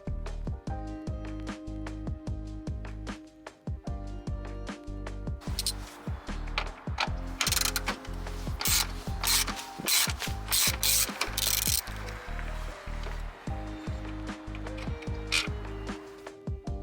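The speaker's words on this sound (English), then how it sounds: "Remove the 3 8mm bolts from the headlight assembly, being mindful not to drop them." A ratchet clicks steadily as it backs out three 8mm bolts from the headlight assembly of a Ford Grand Marquis; dense, rhythmic ratcheting sounds up close in continuous bursts, with no talking.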